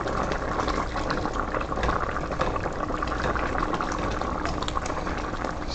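Jamaican-style stew pork simmering in a pot, a steady close bubbling and gurgling of thick gravy that continues evenly throughout with no talking.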